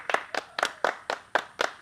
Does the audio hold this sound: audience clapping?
yes